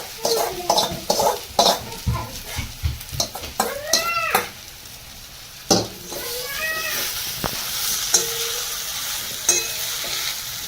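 Flattened rice poha being stirred in a hot pan, sizzling under clattering spoon scrapes at an irregular rhythm, while a cat meows several times nearby and a voice speaks briefly.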